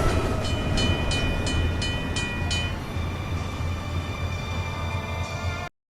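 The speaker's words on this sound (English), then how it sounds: "a train goes by, a commuter train, passenger train" A burning commuter passenger train rushes past in the 2005 War of the Worlds film, a loud steady rumble with rhythmic clattering wheel beats and a high screech, cutting off abruptly at the end.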